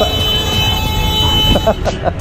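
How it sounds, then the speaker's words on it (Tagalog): Several short car horn toots near the end, a quick series of honks over steady road and engine noise. "Ang ganda ng intro natin, busina."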